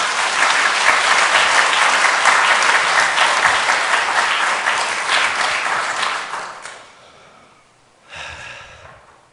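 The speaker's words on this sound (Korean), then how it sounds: "우리 박수로 맞겠습니다." An audience applauds loudly and steadily at a church-movement leadership inauguration and farewell ceremony in Pohang. The clapping fades out after about six seconds, then a shorter, quieter burst follows.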